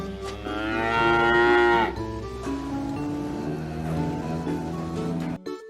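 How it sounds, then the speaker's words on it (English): Cow on a farm mooing: one long, loud, sustained low bellow that swells early and then holds steadily before cutting off, with no talk over it. "Cow. Cow gives us milk."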